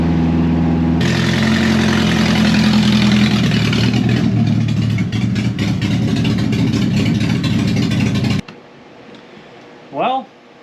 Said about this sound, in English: that exhaust is pretty loud without the rest of it, you know, just the headers there